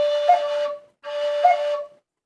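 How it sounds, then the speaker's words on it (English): A low C Irish whistle plays two sustained, breathy notes in the second octave, each embellished with a quick cut, separated by a brief pause, close and solo. "I don't know if I can get that effect on a low whistle where you can hear this is a low C whistle"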